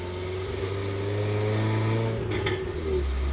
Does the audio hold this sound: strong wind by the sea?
no